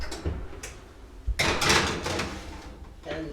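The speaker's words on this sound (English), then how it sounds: "so we're going to put these in the oven" A kitchen oven door being opened to slide in a tray of cookies: a few soft knocks and clicks, then a louder clattering rush of metal and hinge, followed by quieter handling noises.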